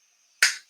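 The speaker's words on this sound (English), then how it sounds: "snap your fingers in 3 random places" A single sharp finger snap, close and crisp, with a short decaying tail, alone against near silence.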